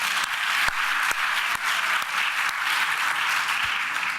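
Audience at an annual meeting plenary session in Barcelona applauds steadily, a dense wash of clapping with a few sharper claps standing out, close and continuous throughout.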